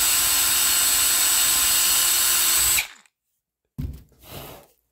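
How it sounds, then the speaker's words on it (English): Power drill boring a pilot screw hole into the wooden body of a pink Stratocaster guitar build: a loud, steady whine for nearly three seconds, a sudden stop into silence, then two short bursts of drilling. "then pre-drill and screw it up"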